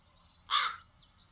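A single crow caws once, loud and close, in the video game The Dark Eye: Chains of Satinav, against near silence.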